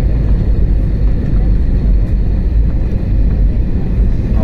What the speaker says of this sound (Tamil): அவ்வளோதான், லேண்டிங் ஆகுது.